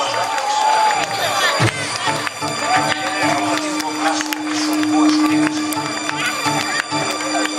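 A lively crowd at an outdoor band performance cheers and shouts steadily, with music and a sharp bang partway through; clapping is not clearly distinct from the general roar.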